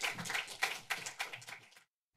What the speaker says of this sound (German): nochmal großen Applaus